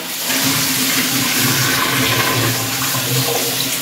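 Beans are rinsed under running tap water in a home kitchen before going into a pressure cooker. The water makes a loud, steady, close rush with no break.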